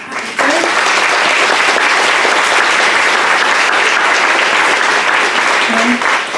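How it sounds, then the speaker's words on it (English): Loud audience applause after a UX interview workshop, starting abruptly and holding as a dense, steady wash of clapping, with a brief voice near the end. "another round of applause for"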